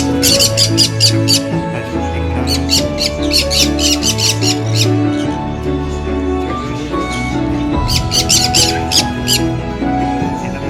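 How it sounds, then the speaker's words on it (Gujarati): Bursts of shrill, rapid parrot chirps and squawks repeat in clusters over a constant low hum, loud and close. "જો કેટલા રંગબેરંગી પોપટો છે"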